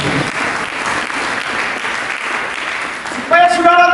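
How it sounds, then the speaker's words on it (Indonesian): A church congregation at a Christmas service claps together in a dense, sustained round of applause for about three seconds before a voice comes in over it. "Mari kita berikan tepuk tangan"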